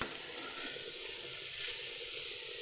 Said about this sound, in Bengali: ফুলকপি আর আলু ভাজা হচ্ছে।